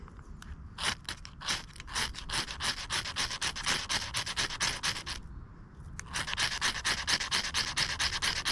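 Knife spine scraped repeatedly along a ferro rod to throw sparks onto small pieces of birch bark, a fast run of close, harsh rasping strokes that pauses briefly and then resumes even louder.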